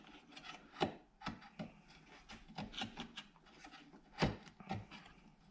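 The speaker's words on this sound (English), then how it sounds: "I'm going to use my marking gauge to mark across here 5 inches and to mark these lines" A marking gauge scribes lines across wood for a Shaker side table, giving faint, soft scraping and rubbing strokes in an uneven rhythm, with a couple of sharper knocks.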